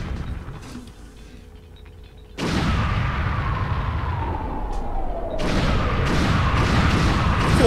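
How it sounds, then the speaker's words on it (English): Explosions in the Star Fox 64 video game: a sudden heavy boom bursts in and swells into a sustained rumbling roar, followed a few seconds later by a second blast that keeps the roar going. "Those explosions."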